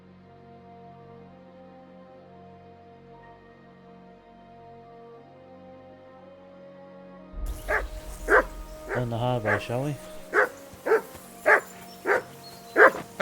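A dog in the video game Kingdom Come Deliverance 2 barks in a quick series of loud, evenly spaced yaps after a quiet stretch of ambient music, with a voice speaking just before.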